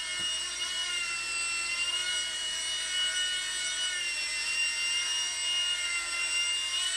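A radio-controlled mSR micro helicopter hovers and spins indoors, giving off a steady high-pitched rotor and motor whine that stays fairly constant and close throughout, with no talking.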